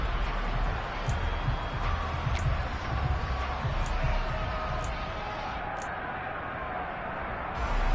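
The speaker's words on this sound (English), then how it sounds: "That just means this crowd's going to get even louder" Crowd noise fills a virtual NFL stadium in a football video game, a dense, continuous roar that swells and eases, with a few sharp accents popping out at intervals.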